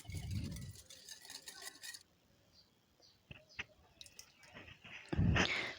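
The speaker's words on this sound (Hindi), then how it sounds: "अभी हम इसको अच्छी तरह से मिक्स करेंगे ताकि जो शुगर है वो अच्छी तरह से दूध में मिक्स हो जाए।" A spoon stirs sugar into warm milk in a bowl for eggless cupcake batter, giving scattered scraping and light clinks against the dish with short pauses and a louder clatter near the end.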